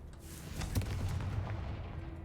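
A Confringo fire spell bursts in Hogwarts Legacy, giving a dull booming blast with a crackling rumble that carries through the whole moment at moderate loudness, with no voices over it.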